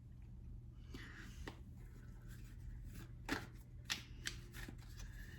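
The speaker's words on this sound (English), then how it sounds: "I'm just going to shuffle the cards" Tarot cards being shuffled close by, a series of soft riffling flicks and snaps over a low steady hum, with no talking.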